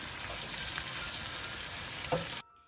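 Salted onions sauté for a Kerala-style egg roast, sizzling and crackling steadily in a hot pan, a close, even frying hiss that cuts off abruptly at the end.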